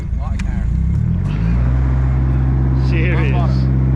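A Nissan Silvia S80 engine catches and settles into a steady, loud idle with a continuous low rumble, while people talk over it close by.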